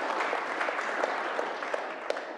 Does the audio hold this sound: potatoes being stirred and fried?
no